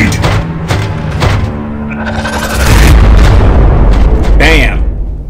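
A grenade blast in the Warhammer 40,000 Regicide game, Space Marines against Orcs, lands as a heavy low boom that swells midway and rumbles on under game sounds and voice lines.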